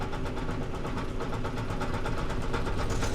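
Excavator fitted with a Rototilt R4 tiltrotator running its pulse function, a steady dense mechanical engine rumble with fast rhythmic pulsing throughout, loud and close with no voices.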